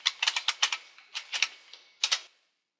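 Keystrokes on a computer keyboard as a username and password are entered at a server login, a quick close burst of clicks, a short pause, another run, then a final pair of taps.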